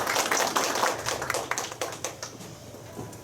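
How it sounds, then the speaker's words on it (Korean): Scattered clapping from a small audience at a Korean cooperative's training course for small-business curators, a loose run of sharp, uneven claps that thins out toward the end, with no voices over it. "세 분 다시 한번 박수 부탁드리겠습니다"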